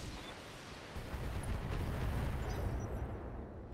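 Heavy mech firing all its weapons at once in a BattleTech video game, a dense continuous roar of blasts and explosions that swells and stays loud for several seconds.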